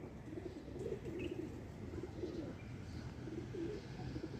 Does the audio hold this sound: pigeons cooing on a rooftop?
yes